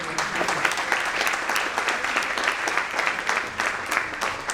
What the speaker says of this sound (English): So Satish, wherever you are, stand up again, and I think everybody can clap for you.